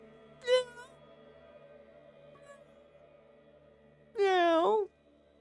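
A pet cat named Peter gives two distinct meows, a short one early and a longer, drawn-out one near the end, close and clear over a steady low background hum.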